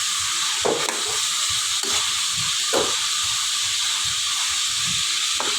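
Chicken pieces frying in a pan for a chicken curry, with a steady loud sizzle and hiss broken by a few sharp stirring clatters at irregular intervals.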